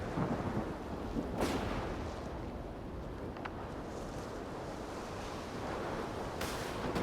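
Thunder rumbling through a lightning storm in the video game S.T.A.L.K.E.R. 2: Heart of Chornobyl, a steady loud roar of rain and wind with a few sharp cracks standing out, no voices.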